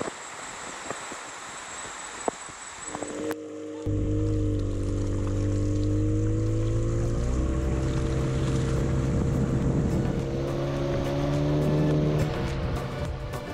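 A boat's motor on a jungle river in Taman Negara starts up after a few seconds of quiet wind and water, then drones steadily and loudly, its pitch rising and shifting as the boat heads toward rapids.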